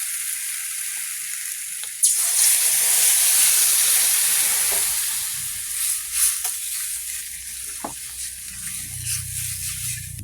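Water poured into a pan of fish and mixed vegetable curry with green banana sets off a loud burst of hissing sizzle that gradually softens into bubbling, with a few clinks close by and no talking.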